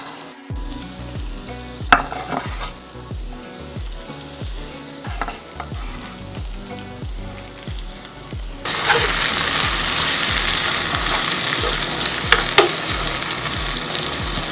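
Chopped tomatoes hit a hot pan for a steak omelette, bringing a steady crackling sizzle that swells into a louder, denser frying hiss halfway through, with scraping stir strokes and ticking pan knocks throughout.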